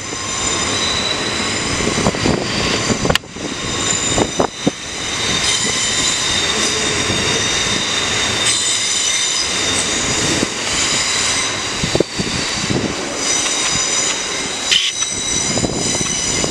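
A South Western Railway Class 444 Desiro electric unit pulls away from a station platform, a steady loud rolling hum with bright high tones and wheel flange squeal over continuous rumble, with occasional sharper clanks.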